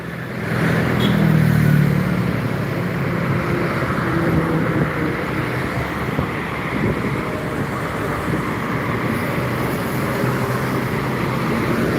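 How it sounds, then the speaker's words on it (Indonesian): Steady roadside traffic along the Jalan Lintas Timur highway in Palembang, with a continuous broadband rumble of passing vehicles, a louder car swelling past early on, then an even, constant wash of engines and tyres. "Masih suasana di Jalan Lintas Timur Palembang, menunggu bus yang mau menuju Pulau Jawa dan Sumatera"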